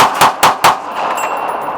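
Three quick gunshots ring out in a steady rhythm from an AR-15 rifle fitted with a Deadfoot Arms MCS folding stock, loud and close, each followed by a short ringing tail outdoors.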